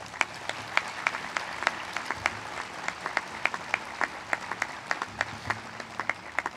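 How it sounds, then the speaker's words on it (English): A university audience gives a thin round of applause at a campus address, with individual claps clearly audible in a moderately distant, steady patter. "I think she deserves another round of applause."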